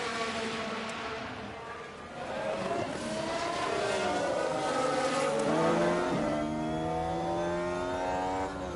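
Formula 1 race cars in the F1 Manager 23 video game, engines howling and shifting pitch as cars accelerate and pass, with tyre noise and overlapping engine notes, loud and continuous.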